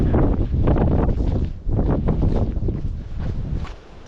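Strong gusting wind buffeting the microphone on a muddy coastal walk, a loud continuous rumbling roar that dips briefly and then surges again.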